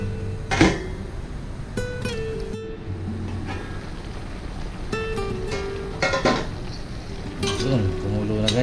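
Ginataang langka, jackfruit in coconut milk, bubbles softly in a pot with a low steady simmer, broken by a few sharp clinks and scrapes of a utensil against the metal.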